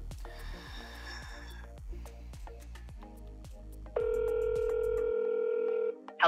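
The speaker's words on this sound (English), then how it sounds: "I'm just gonna give it a call on my phone here" A smartphone places an outgoing call to a restaurant's AI receptionist line: a steady repeating ringback tone pulses for several seconds, then a brighter sustained tone cuts in and ends abruptly, with no voices.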